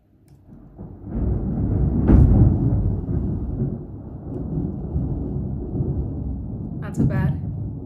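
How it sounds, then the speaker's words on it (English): Low, rolling thunder after lightning over San Jose, Costa Rica, a deep rumble that swells and lingers for several seconds, with a couple of sharper bursts over background noise. "That was lightning, so we're gonna hear some thunder"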